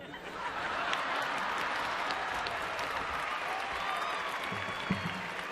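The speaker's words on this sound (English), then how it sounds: "please remain standing while we continue to applaud your achievement" A stadium crowd at a Virginia Tech spring commencement applauds graduates, a broad sustained roar of clapping and cheering that holds steady and full from start to finish, with faint scattered voices mixed in.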